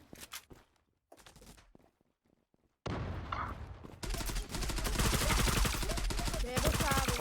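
Gunfire in the online shooter Zula: sparse, quieter shots and movement at first, then loud, dense rapid bursts of automatic fire that continue to the end.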